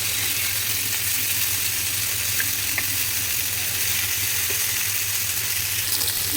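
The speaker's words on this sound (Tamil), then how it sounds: "ஒரு பக்கம் வெந்ததும் திருப்பி போட்டு ரெண்டு பக்கமும் சேர்ந்ததும் மீன் எடுத்துடலாம்" Fish frying in a pan gives a loud, constant, even sizzle with a faint low hum beneath, steady from start to end with no talking.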